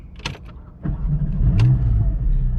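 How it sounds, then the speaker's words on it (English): A 2022 Porsche GT4 engine starting: a couple of sharp clicks and a brief crank, then the engine catches and settles into a low, steady idle rumble, close and loud with no talk. "You see, now the car starts."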